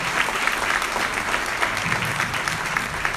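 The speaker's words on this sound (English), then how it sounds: "Please give Mark a round of applause." Sustained audience applause at the 2023 Valor Awards dinner, a full, steady patter of many hands clapping at moderate loudness with occasional sharper claps standing out.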